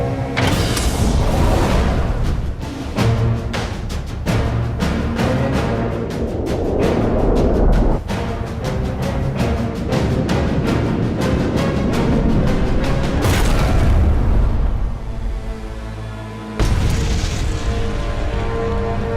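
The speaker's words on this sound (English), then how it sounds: "Targeting the steamer, Hartigan launches his first torpedo." A WWII U-boat fires a torpedo at a steamer, with loud mechanical clanks and launch thuds building into heavy rumbling booms and a sustained roar, then a sharp crash.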